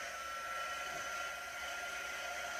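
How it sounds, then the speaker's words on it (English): A hair dryer blows in a steady, unbroken whir at close range, drying chalk paste on a decorative tiered tray, with no talking over it. "You can use a hairdryer or heat tool"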